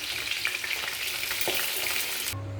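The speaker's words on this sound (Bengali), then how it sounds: "চিকেন পকোড়াগুলো লাল করে ভেজে নিয়েছি" Chicken pakoras frying in oil: a dense, bubbling sizzle with a few light knocks, steady and close, cutting off abruptly just before the end.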